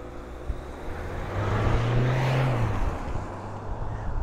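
Diesel Mahindra Thar automatic and Tata Nexon EV Max launching in a drag race, a broad engine roar swelling as the vehicles pull away, then easing off over a few seconds with no talk.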